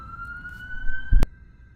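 An ambulance siren on a nearby route, heard as a steady high tone that holds throughout, with a sharp loud thump and rumble near the middle as something passes.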